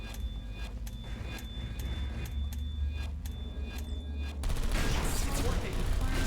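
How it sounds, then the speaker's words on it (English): Turrets fire in Portal Stories: Mel, a steady run of sharp, rapid shots against a humming background that swells into louder, denser noise near the end. "Turrets are shooting the servers."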